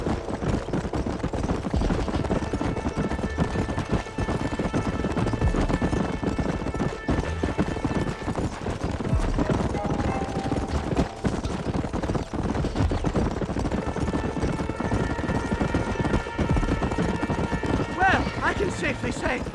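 Horse galloping in the video game Red Dead Redemption, with steady, rapid hoofbeats running continuously and loud throughout, alongside an occasional whinny and a faint tonal musical backdrop.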